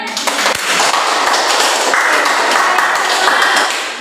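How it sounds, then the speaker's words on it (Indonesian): Students in a physics microteaching class applaud a classmate with steady, loud, dense clapping that holds throughout. "Tepuk tangan dulu untuk tangannya."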